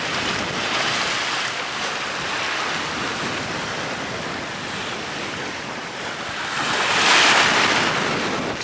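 Sea waves and steady wind in 15–20 knots while sailing solo along the Brazilian coast between Rio de Janeiro and Salvador de Bahia, a continuous broadband rush with a louder surge near the end and no talking.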